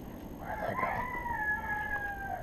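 A rooster calls once from a distance, a drawn-out, wavering crow lasting about two seconds over quiet outdoor background noise.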